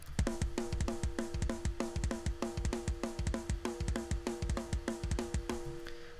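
Compressed, distorted snare-heavy drum bus from a St. Anger mix, a fast steady pattern of hard, ringing snare and kick hits, dense and loud with no voices.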